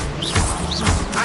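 An Incendio fire spell cast in a Hogwarts game, a short whooshing burst with crackling impacts, repeated twice in just over a second, loud and close.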